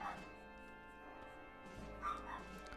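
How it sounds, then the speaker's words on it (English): Faint, far-off barking from an excited dog indoors, a few short yips and whimpers spread across a quiet background hum. "dog's going crazy"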